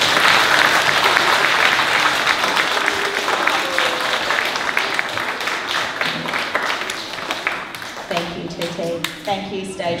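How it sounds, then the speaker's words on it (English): Audience at a school presentation day clapping for class 2T, loud dense applause that gradually thins and fades, with a voice speaking over the final seconds. "Let's give 2T a great big clap"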